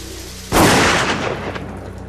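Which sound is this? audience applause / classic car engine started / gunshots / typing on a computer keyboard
gunshots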